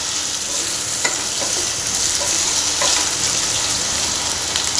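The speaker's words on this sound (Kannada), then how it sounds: "ನೀಟಾಗಿ ಫ್ರೈ ಮಾಡಬೇಕು ನಾವು. ಅವಾಗೆ ನಮಗೆ ಆಲೂ ಫ್ರೈ ರುಚಿ ಕೊಡೋದು." Potatoes frying in a pan for aloo fry, giving a steady, loud, dense sizzle with a few faint stirring taps, close up and continuous, with no talk.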